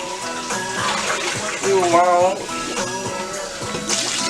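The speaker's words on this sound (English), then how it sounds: "Gotta put a little bit more water in there" Water poured from a tap into a cooking pot while making oxtails in gravy, a steady gushing splash with someone talking over it partway through.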